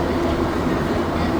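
A metro train runs between Montmorency and Lionel-Groulx stations late at night, with a steady rolling roar and rhythmic wheel clatter heard from inside the car.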